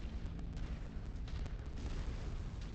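Artillery shells booming and rumbling in a modded MechWarrior 5: Mercenaries career battle, a dense continuous low roar of overlapping blasts with no clear gaps.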